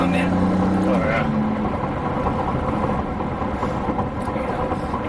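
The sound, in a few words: Maserati MC20 V6 turbo noise when accelerating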